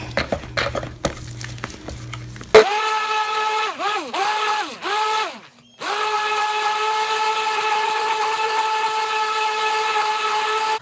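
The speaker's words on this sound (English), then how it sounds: "if y'all don't know who Bella is the stick blender" A stick blender runs in liquid soap paste made by the cold process, with rattling and clicking before a loud motor whine starts, surges and dips in several pulses, cuts out briefly, then holds a steady whir.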